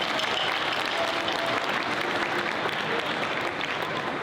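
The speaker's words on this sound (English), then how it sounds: "So let's give them a round of applause." An audience applauds lion dance performers at a Lunar New Year chapel program, with continuous, fairly distant clapping that holds at an even level from start to finish.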